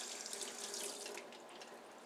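Keurig reusable coffee filters are rinsed of soap under a running kitchen tap, a steady close hiss and splash of flowing water with small shifting spatters as the filters move through the stream.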